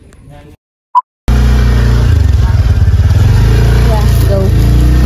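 A motorcycle engine runs loudly close by after a brief quiet gap and a click. It holds a steady, rough, throbbing drone to the end.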